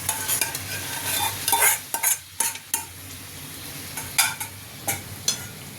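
Boiled tarka is stirred into a tomato masala in a pan, with a steady sizzle underneath and a series of sharp spoon scrapes and knocks against the pan, close up and with no talking.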